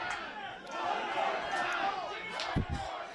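Wrestling event crowd at a POW show, a broad roaring and chattering mass of voices heard from ringside, with a couple of sharp slam-like thuds near the end.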